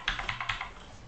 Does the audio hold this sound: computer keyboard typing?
yes